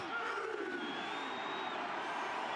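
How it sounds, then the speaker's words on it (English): A loud Formula 1 grandstand crowd roars and cheers without pause, making a dense, sustained wash of voices with whistle-like tones riding on top. "Especially with how loud that crowd is."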